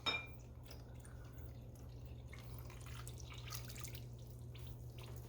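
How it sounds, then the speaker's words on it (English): Water poured into a liquid measuring cup while making lemon meringue pie filling, a soft steady trickling and dripping over a low electrical hum, close by and without speech. "And then I'm going to add 2 cups of water."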